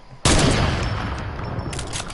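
Gunfire in a video game breaks out suddenly after a brief quiet moment, a loud, dense burst of rapid shots that carries on and slowly fades over the next two seconds.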